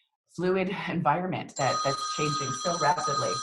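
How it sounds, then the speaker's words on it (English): A telephone rings steadily in the background of a PR and crisis-communications podcast interview, its bright sustained tone running under continuous talking for the second half. "So sorry about the phone there."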